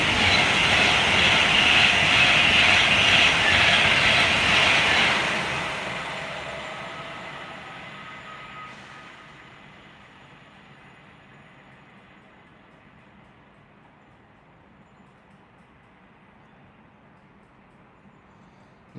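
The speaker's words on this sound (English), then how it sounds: "Always a train comes when I want to speak." A passing train rumbles loudly and close for several seconds, then fades gradually into a long, quiet tail as it moves away.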